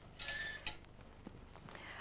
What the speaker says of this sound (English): then just slip in the fan steamer